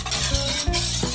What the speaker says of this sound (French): ce qu'il faut, c'est ne pas arrêter de remuer